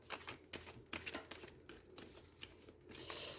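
A deck of Oracle des Miroirs oracle cards being shuffled for a thirteen-card spread: soft, quick riffling and flicking that comes in rapid, uneven bursts, close to the microphone and fairly quiet.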